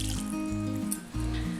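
Water poured from a quarter cup into a chicken marinade of turmeric, crushed chilli, salt and lemon juice: a steady, close trickling pour with a changing, gurgling tone, and no voices.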